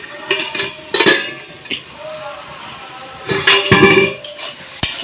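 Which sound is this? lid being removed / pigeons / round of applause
lid being removed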